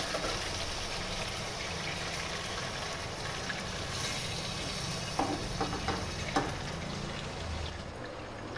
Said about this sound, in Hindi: चिकन को अच्छे तरीके से इसमें मिक्स कर लेंगे